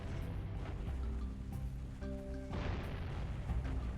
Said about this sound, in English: the only way I can break open these boxes is by use of the cannon